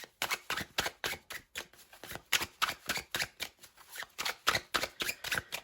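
Tarot cards are shuffled by hand close up, a quick run of crisp riffling flutters and taps repeating in an even rhythm with no voices.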